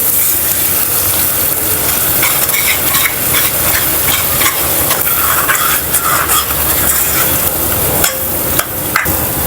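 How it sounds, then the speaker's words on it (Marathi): Ground masala paste being stirred into an onion-coconut mixture in a pan for chicken liver masala, a loud continuous sizzle with repeated clanking spoon strikes and scrapes throughout, close and without talk. "याच्यामध्ये हे जे वाटण आपण बनवून घेतलंय ते घालायचं, हलकंसं मिक्स करूया"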